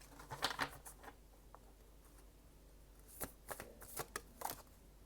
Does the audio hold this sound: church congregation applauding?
no